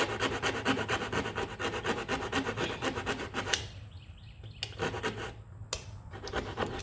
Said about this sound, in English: if the this hacksaw